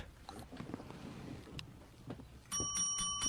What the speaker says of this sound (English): I'm just felt like ringing a bell.